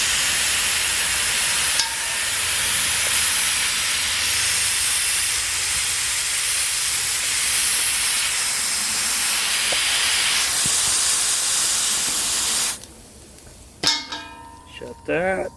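A full propane tank's bleeder valve spits and hisses in a loud, steady rush for about thirteen seconds, then cuts off to quieter room sound with a brief voice near the end.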